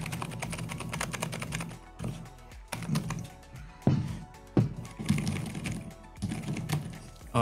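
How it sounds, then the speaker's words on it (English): Typing on a finished mechanical keyboard with cheap shine-through PBT keycaps, a smooth clatter of close, crisp keystrokes in irregular bursts with brief pauses, and no talking. "Here's a finished product right here. I'm gonna plug it."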